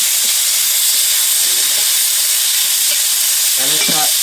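Onion frying in a pan with ginger and cumin paste, a steady loud sizzle and hiss throughout with a few brief stirring scrapes, no voices.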